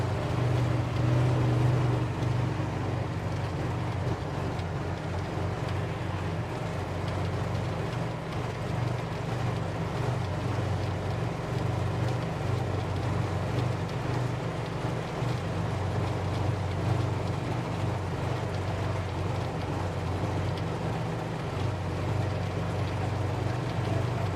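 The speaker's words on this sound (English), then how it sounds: "this engine's getting hot" A boat's engine runs in a steady, loud, low drone with a continuous hum throughout, on a sea turtle patrol off Pensacola, Florida. No voices are heard.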